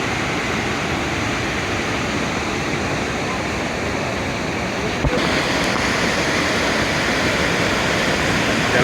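Waterfall on the Yamunotri route in Uttarakhand, a loud, close, unbroken roar of rushing water that holds steady throughout.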